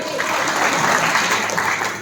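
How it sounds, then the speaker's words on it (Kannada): Loud, dense applause fills a hall at a Doctors' Day event in a Raichur hotel. The crowd claps steadily and close by for a couple of seconds. "ಈ ಒಂದು ವೈದ್ಯರಿಗೆ ಬರಲಿ ಜೋರಾದ ಚಪ್ಪಾಳೆ."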